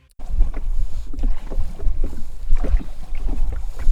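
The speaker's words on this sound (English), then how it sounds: "what is all that background noise that you are hearing, that's Karri who is paddling his small ring-a-dingy rowboat" A small boat is paddled across open water, with uneven splashing strokes and dripping water heard close by under gusts of wind buffeting the microphone.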